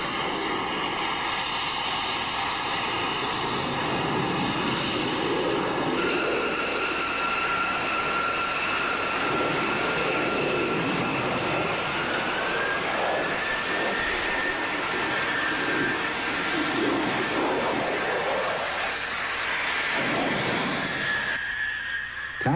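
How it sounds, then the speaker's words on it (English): A Northrop B-2 all-wing bomber taxis with a steady, loud roar of jet engines and a sustained whine that slowly rises in pitch, a continuous broadband rumble without speech. "Taxiing out, the all-wing bomber showed its superficial resemblance to Northrop's earlier flying wing bombers"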